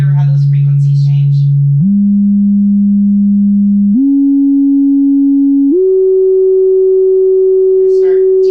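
A pure sine test tone steps upward in pitch in four distinct jumps, each held for about two seconds, loud and steady, with a person talking briefly at the start and end.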